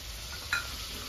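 Chopped tomatoes fry in oil with ginger and green chili paste and whole cumin, giving a soft, steady sizzle and one brief stirring scrape partway through.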